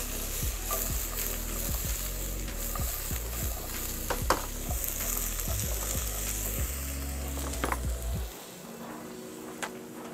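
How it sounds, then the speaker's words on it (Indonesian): Zucchini sautés with pepper in a pan for Korean bibimbap, a close, continuous sizzle punctuated by rhythmic scraping and tapping of a utensil stirring, stopping abruptly near the end. "Oke, kita tumis sebentar."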